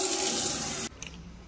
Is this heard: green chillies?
no